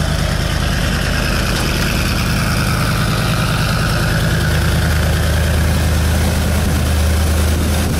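A 1969 Chevrolet Corvette engine idles steadily at close range, a loud continuous low rumble with an even pulsing throb and no voices.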